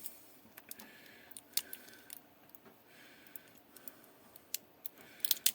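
Crinkly plastic packaging being pulled open around ER20 collets, a run of sharp rustles and snaps, quiet and close, with several louder crackles near the end.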